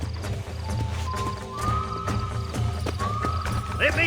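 A horse in the Western video game Red Dead Redemption, with steady hoof clip-clops and a rising whinny near the end, under someone talking and background game music.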